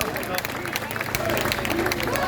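Crowd applause at a French political rally marking a referendum anniversary, a steady, moderately distant clatter of many hands under a low murmur of voices.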